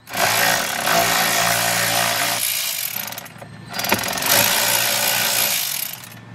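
A power driver whirs loudly up close as it backs out screws holding the A/C blower in a 2014-2019 Jeep Grand Cherokee, with two sustained runs separated by a brief pause and a small clunk.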